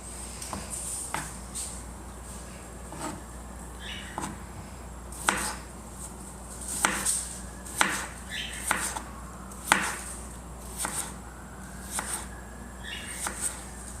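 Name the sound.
knife chopping asparagus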